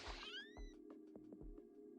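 A video game cat named Kip meows a few times, one clear rising-and-falling meow followed by shorter, softer mews over a steady background hum.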